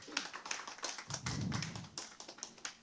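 Applause from an audience at a North Sulawesi cultural performance held at a university faculty of cultural sciences in Manado, heard as a patter of scattered, fairly close claps that rise briefly into a denser burst before thinning out again.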